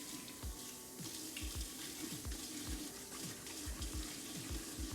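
Tap water runs steadily into a sink while face cleanser is rinsed off during a nighttime skincare routine, a continuous splashing wash with repeated low thuds of hands scooping water, close and fairly loud, with no talking.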